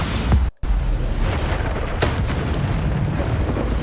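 A Bombarda blasting spell explodes in the video game Hogwarts Legacy with a loud, deep boom and rumbling blast noise. A brief dropout comes early, followed by continuing crackles and thuds.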